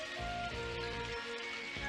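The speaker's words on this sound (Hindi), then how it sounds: "बारिश शुरू हो गई।" Rain begins to fall in a Doraemon cartoon, a steady, dense hiss of drops on surfaces that runs the whole moment at an even, moderate level, with no voices over it.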